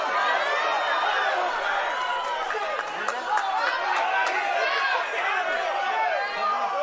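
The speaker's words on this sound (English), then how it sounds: "What a crowd." Dense crowd noise at a boxing match, a steady roar of many overlapping voices chattering and shouting, continuous and loud throughout with no single voice standing out.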